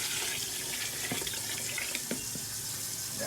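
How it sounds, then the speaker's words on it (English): Water pours steadily from a tap into a pot of Creole giant lima beans, a continuous close splashing rush with a few small clinks, no talking. "let's add this water."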